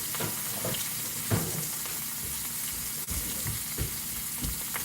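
Egg frying in a pan with a splash of water added for steaming, a loud continuous crackling sizzle with occasional sharper pops and spits, close up and without voices.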